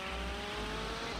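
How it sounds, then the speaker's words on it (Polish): A PCJ-600 motorcycle engine in GTA Vice City drones steadily and fairly quietly for a brief moment, a continuous buzzing hum with no talk over it. "PCJ600, tak zwany motor."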